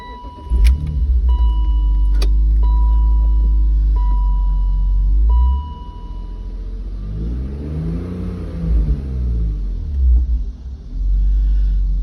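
A 2000 BMW Z3 with the 2.8 engine and 190,000 miles fires up with a quick crank, then settles into a loud, close idle with a brief rev midway before dropping back to a steady rumble.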